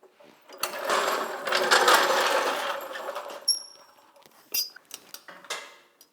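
A metallic clanking and rattling from the back wheel of a 2014 Peugeot 308 with a badly worn brake disc, close by, in irregular clinks and bursts with a brief faint ring.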